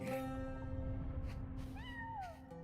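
A game cat meows twice in quick succession, the calls rising and falling, over steady background music inside a Genshin Impact event quest.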